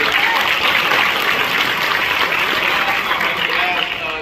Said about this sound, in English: y'all give yourself a round of applause first